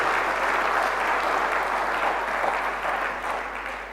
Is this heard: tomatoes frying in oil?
no